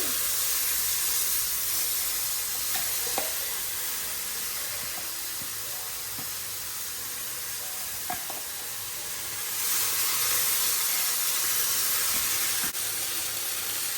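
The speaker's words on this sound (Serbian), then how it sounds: "A zatim ćemo ovaj naš sos koji smo izblendali da preručimo u tiganj." A blended sauce goes into a hot frying pan for a vegetarian pasta and gives off a loud, steady sizzling hiss, close up, that lasts throughout with a few faint clicks of utensils.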